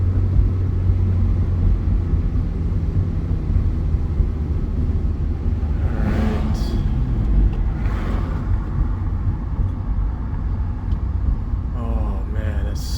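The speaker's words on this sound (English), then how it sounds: "Still don't really hear the exhaust too much," Toyota Corolla, eighth generation, driving with a quiet exhaust: a steady low road and engine rumble fills the cabin throughout, with a few brief passing swells and faint voices in the background.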